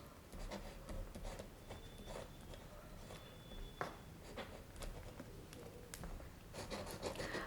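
A pen scratches on paper in short, faint strokes with brief pauses between them, quiet and close.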